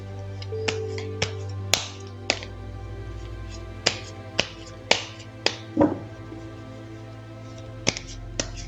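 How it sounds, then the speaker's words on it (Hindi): Tarot cards shuffled by hand, giving a series of sharp, separate snaps and taps at uneven intervals over a steady low hum, close and fairly loud, with no talking. "तो चलिए पहले ज़रा कार्ड्स को शफल कर लेते हैं।"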